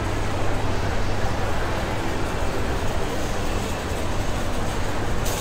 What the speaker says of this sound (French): regarde avec le petit tramway et tout